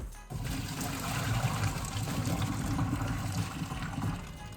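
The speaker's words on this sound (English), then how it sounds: "I'm putting strainer over the pot. It's overflowing a little bit, and I'm going to dump." Pasta water dumped through a strainer set over a pot, a sudden rushing pour and splashing trickle starting abruptly and running steadily close by, without speech.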